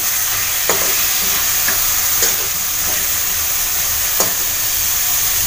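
Ground masala paste with chopped tomato and coriander sizzles steadily in a hot pan, a constant loud frying hiss broken by a few brief scraping stirs of a spoon, with no talking.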